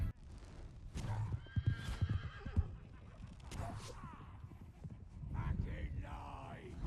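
Horse whinnying and clip-clopping hooves in a TV show, with scattered hoof thuds and a loud neigh near the end, set amid battle noise and some talking.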